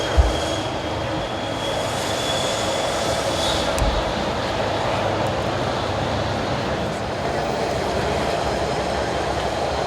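A train rumbles past a school graduation ceremony outdoors, a loud, steady roar of wheels on rails with a brief metallic squeal and clatter, holding constant throughout and drowning out the surroundings.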